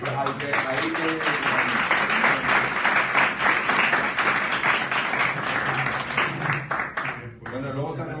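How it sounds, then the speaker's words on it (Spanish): An audience at a social sciences conference session in Córdoba applauds, dense continuous clapping from a sizable crowd that carries on for most of the stretch before tapering near the end, with a voice speaking over it. "les dieran un aplausito"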